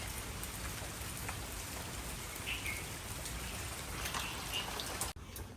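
Steady rain falls during a flood, a dense even patter on surfaces that continues throughout at moderate distance, with no voices.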